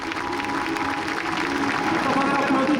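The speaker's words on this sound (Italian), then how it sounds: "Fate arrivare più lassù il vostro applauso al tenente colonnello Massimiliano Salvatore" Audience at the Jesolo air show applauding a Frecce Tricolori pilot, a broad, sustained clapping from a large crowd, with an announcer speaking over it.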